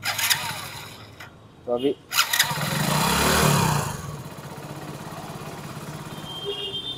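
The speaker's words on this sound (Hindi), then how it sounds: "तो बाइक को हम लोग स्टार्ट करेंगे" A Hero Splendor Xtec BS6 motorcycle engine is cranked and catches with a loud, rising burst, then settles into a steady, low idle. Someone speaks briefly before it starts.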